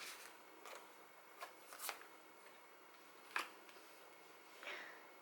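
Tarot cards are shuffled and drawn during a Scorpio love reading, a few faint, scattered soft flicks and card snaps spaced out over quiet room tone.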